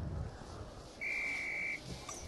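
A referee's whistle in the Harry Potter and the Philosopher's Stone PS1 video game gives one steady high blast of under a second, clear over quiet game background.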